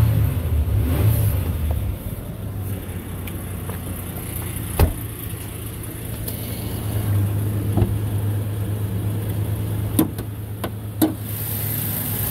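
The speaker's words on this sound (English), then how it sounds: "Rev her up a little bit." A 2009 Ford Ranger XLT pickup's 4.0 liter V6 engine idles steadily with the hood open, rising in a few short revs, heard close and alone with occasional clicks.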